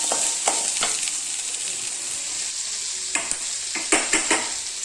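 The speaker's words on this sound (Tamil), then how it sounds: "இந்த அடுப்பில் நான் இந்த வெங்காயம் இதெல்லாம் போட்டு வதக்கலாங்க" Onion and tomato sauté in a pan on the stove: a continuous close sizzle broken by sharp spatula stirs and scrapes against the pan, with no voices.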